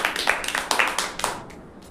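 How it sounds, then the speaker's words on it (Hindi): A classroom audience claps for a student called up front during a school nutrition and midday-meal activity, a short burst of scattered, fairly close hand claps that fades out after about a second and a half. "रिशु के लिए जोरदार ताली बजाइए।"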